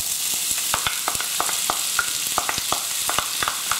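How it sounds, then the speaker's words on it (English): Chopped sweet onion sizzling and frying in a hot pan, a continuous close crackle dotted with sharp popping spits, with no talking. "we'll put the onion in there first"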